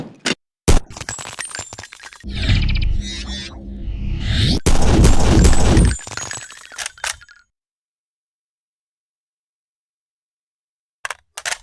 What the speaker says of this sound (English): The assault shotgun here is just a fast-firing version of the sawn-off